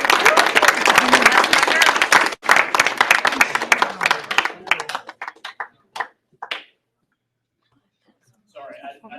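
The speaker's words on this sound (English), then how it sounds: "All right, clapping it is." An audience claps together in a room, dense and loud at first, then thinning to scattered claps that die out into silence before faint murmuring.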